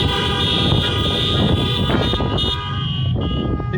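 Car horns honking at an outdoor political rally in Helena, Montana, a steady, overlapping chorus of sustained toots from several vehicles, loud and continuous for the whole stretch.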